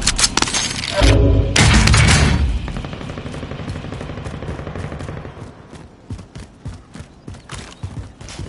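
A loud opening burst of submachine-gun fire and heavy impacts in a video game, followed by quieter scattered shots and sharp clicks that thin out into sparse rhythmic taps.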